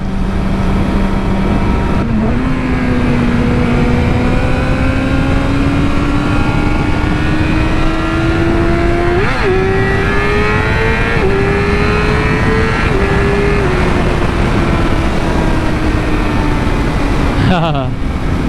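A Yamaha R6 motorcycle engine holds a loud, high-rpm drone for the whole stretch. Its pitch climbs slowly, with small blips, under heavy wind rush.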